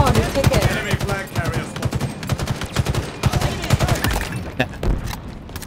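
Rapid bursts of automatic gunfire in Halo Infinite ranked split-screen play, dense and loud with sharp repeated shots, while players talk over the action.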